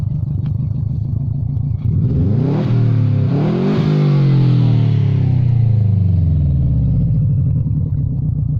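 A 1999 Subaru Impreza with a loud aftermarket Cannon exhaust revs up close, the engine note climbing sharply through a couple of throttle blips before settling into a steady, rumbling idle.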